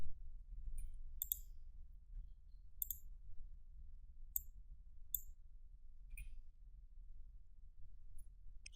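Computer mouse clicks while working in SolidWorks CAD software, about eight crisp, faint single and double clicks spaced irregularly over a quiet low hum.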